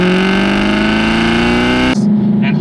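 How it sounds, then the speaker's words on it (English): A 2007 Aston Martin V8 Vantage revs loudly and close, its exhaust note climbing steadily before cutting sharply into a lower, rougher idle burble. "here in the 2007 V8 Vantage, I'm going to throw in some great exhaust shots"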